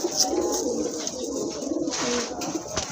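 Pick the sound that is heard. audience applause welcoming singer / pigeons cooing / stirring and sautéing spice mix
pigeons cooing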